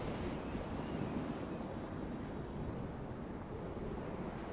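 Strong, cold wind on the Arctic tundra roars steadily, a broad, gusty buffeting that fills the space with no other sounds or voices.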